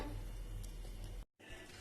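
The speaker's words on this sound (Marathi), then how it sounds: "आता मी कढईमध्ये तेल टाकते" Cooking oil poured into a kadhai for a chole curry gives a steady close hiss that cuts off abruptly for a moment near the end, then resumes.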